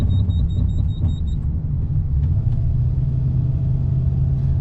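A first-generation Toyota Tundra pickup climbs a hill under load, its engine giving a steady low rumble close by with road noise and no talking.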